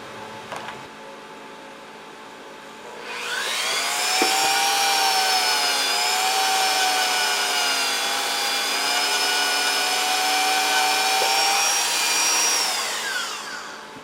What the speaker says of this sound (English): in here we'll get to that with a grinder